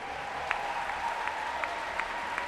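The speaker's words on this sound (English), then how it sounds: "please join me in a big round of applause as we acknowledge our seniors" Spectators applaud seniors at a high school water polo tournament, a sustained wash of clapping with a few sharper individual claps and whistle-like tones standing out.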